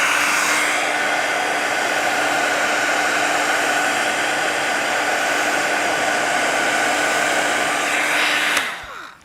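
Heat tool blowing hot air to dry watercolor Distress Oxide ink on paper: a loud, steady whoosh and whine that lasts several seconds and then cuts off, with no talk.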